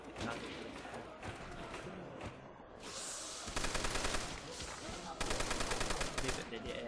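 Rapid gunfire bursts in the World at War Zombies map Nacht der Untoten, two loud automatic volleys breaking through quieter in-game noise and thuds.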